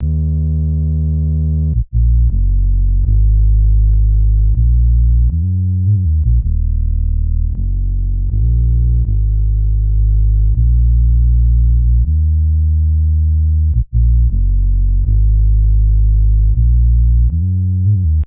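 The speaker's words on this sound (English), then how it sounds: "with the crush, I'm adding a little distortion" A loud, sustained distorted bass plays a slow line of held notes with a gritty, buzzing, heavily saturated tone and brief gaps between phrases.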